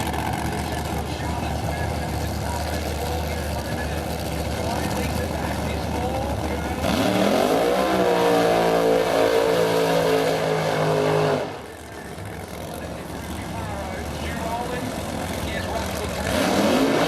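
Drag racing car accelerating hard down the strip at a spring nationals meet, a loud sustained engine roar that swells midway then drops off, with a commentator talking over it throughout.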